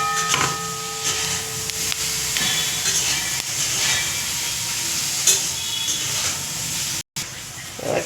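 Mustard oil heating in a hot wok, a steady hiss and sizzle throughout with a few light knocks and a brief cut near the end.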